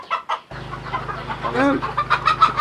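Chickens on a Bangladeshi poultry farm cluck and call in short bursts with a rising squawk, close and fairly loud, over a steady low mechanical hum.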